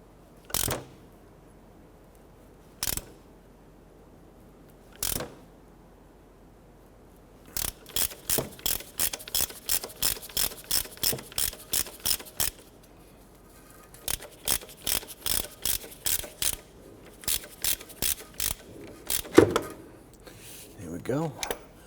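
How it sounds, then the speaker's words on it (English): A puller tool is worked by hand to draw the harmonic balancer off a 1992–1996 Toyota Camry 2.2L four-cylinder engine, giving a few spaced metallic clicks, then long runs of rapid ratcheting clicks, close and crisp. "we're using a puller tool here to go ahead and pull our harmonic balancer here"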